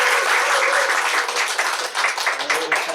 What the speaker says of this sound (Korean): 우리 박수로 환영하고 격려해 드렸습니다